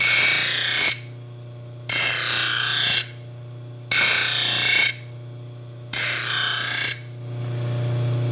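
A Baldor bench buffer hums steadily while a metal part is pressed against the wheel in four loud, roughly one-second deburring passes, each a bright harsh rushing scrape separated by quieter motor drone.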